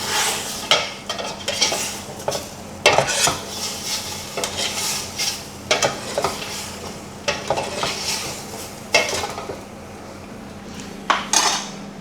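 Chicken tinola with papaya and chilies being stirred in a pot, with a low hiss of cooking under repeated metal clinks and scrapes against the pot, close and fairly loud.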